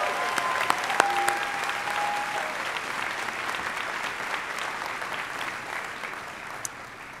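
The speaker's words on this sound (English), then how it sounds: "a round of applause for all of their help in making" Sustained applause rolls through the audience at the 2018 Juniata College commencement, a dense, even wash of many clapping hands with a brief tonal whistle near the start, fading gently over several seconds.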